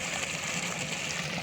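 Water flowing steadily from a source, a continuous broad rushing wash, loud and close, with no breaks.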